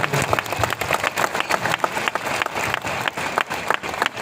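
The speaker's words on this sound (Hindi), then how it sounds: "उनके लिए हम ताली बजाना चाहते हैं।" Audience clapping at a large Hyderabad company team meeting, dense overlapping claps with some cheering, loud and close, filling the whole stretch without speech.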